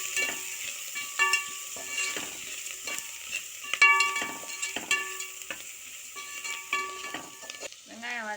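Onions and spices, including turmeric and chilli powder, sautéing for mutton biryani, with repeated stirring scrapes and soft sizzling across the whole stretch, a few sharper clinks, and no voice.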